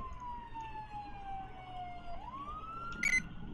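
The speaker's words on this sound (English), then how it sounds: "I don't know if this is New York State Patrol's actually, siren." New York State Police car siren in GTA IV, a single wailing tone sweeping down then rising, fairly faint and alone, with a brief click near the end.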